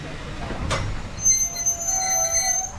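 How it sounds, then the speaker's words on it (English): A heritage railway train pulls into a station on the Avon Valley Railway: a sharp clank, then wheels squealing in high, sustained tones as it slows, nearby and fairly loud. "that is the final train pulled in."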